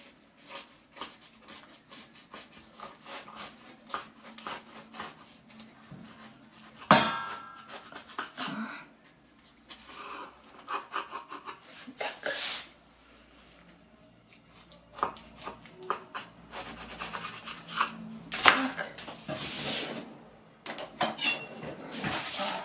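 A knife slices through rhubarb custard cake with a shortcrust base in a metal baking tin, giving scattered soft cuts and sharp scrapes and taps against the tin, quiet and close, with no talking.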